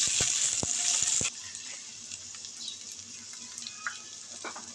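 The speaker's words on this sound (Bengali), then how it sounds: "আদা রসুনটাকে এবার একটু নাড়াচাড়া দিয়ে ভেজে নেব।" Onion with garlic and ginger paste fries in a pan for a chicken kabab curry, hissing loudly at first and then settling into a softer, steady sizzle with light stirring clicks.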